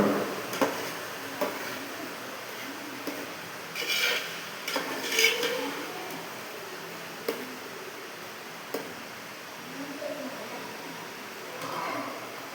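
A ladle stirs thick ghee payasam in a heated uruli, making intermittent scraping and knocking clinks against the vessel amid a low bubbling hiss, close and moderately loud, with no talk.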